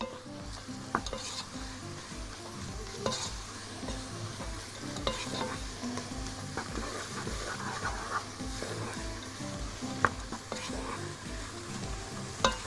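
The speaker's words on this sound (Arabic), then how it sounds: "نحمر كده" Hot chili frying in oil in a pan while cooking fried fava beans: a low, steady sizzle with a rhythmic thumping pulse and occasional sharp scrapes of stirring, fairly quiet and without talk.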